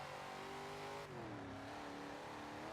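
A track race car's exhaust roars steadily under hard acceleration, then drops in pitch at a gear shift before climbing again, heard from inside the car with no talking.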